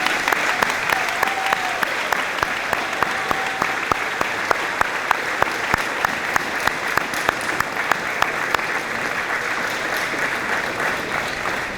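Sustained applause from a large crowd giving a standing ovation at a 2019 high school graduation ceremony, a dense steady patter of clapping with a few sharper individual claps standing out, continuous for the whole stretch.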